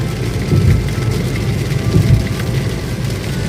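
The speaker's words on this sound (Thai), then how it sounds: "ตอนนี้ก็ฝนตกหนักนิดหน่อยครับ" Steady, dense rain hissing and pattering close by while driving through Ko Phet, Hua Sai district, Thailand, with a low rumble underneath and no voices.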